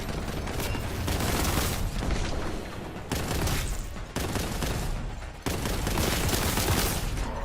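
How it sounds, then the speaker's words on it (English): Heavy gunfire blazes almost nonstop in the shooter Warhammer 40,000: Boltgun. Rapid bursts and booms stay loud and dense throughout, with several abrupt shifts as one barrage gives way to the next. "They're shooting at us."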